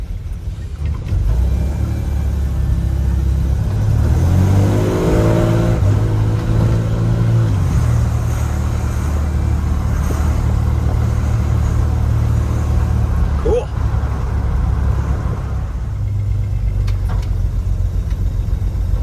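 A 1952 GMC truck engine runs loud and close, rising in pitch as it revs before the Hydramatic automatic transmission shifts and the engine note drops to a steady rumble, then keeps idling without talk.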